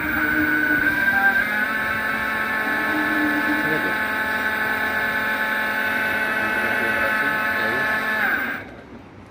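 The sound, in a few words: 60V 1200W BLDC motor spinning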